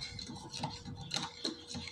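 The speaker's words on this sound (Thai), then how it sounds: "แล้วก็คนให้เข้ากันครับ" A spoon stirs sweet and sour sauce in a bowl for a Thai pork stir-fry, giving soft scraping swishes and a few light metallic clinks, quiet and close.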